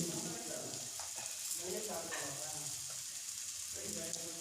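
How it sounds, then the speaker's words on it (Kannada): Cluster beans curry (gorikayi palya) sizzles in a pan, a steady close frying hiss with occasional stirring scrapes, running under intermittent speech. "ಇಷ್ಟನ್ನು ಹಾಕ್ಕೊಂಡು ಒಂದು 5 ನಿಮಿಷ ಫ್ರೈ ಮಾಡಿ ಚೆನ್ನಾಗಿ"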